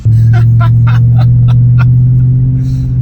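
A supercharged four-door SVT Cobra spins donuts, its engine holding a loud, steady low drone with rhythmic pulses as it swings around, close to the listener.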